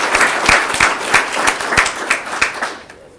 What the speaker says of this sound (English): How about another round of applause for our young philanthropists this morning?